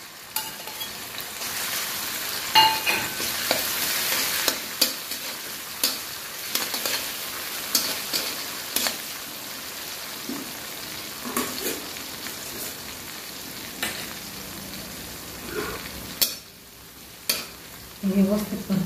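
Rinsed green chillies are sautéed in a pan, a continuous sizzle broken by irregular scraping and tossing strokes of a spatula, briefly quieter near the end before the stirring picks up again.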